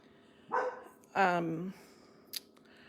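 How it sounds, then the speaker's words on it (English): A dog barks at birds, two loud, close barks about half a second apart followed by a faint short yip, in an otherwise quiet room. "My dog is barking at the birds."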